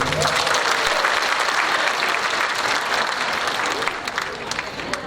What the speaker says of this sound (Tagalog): Sa mga nakakilala sa kanya, pumalakpak nga kayo.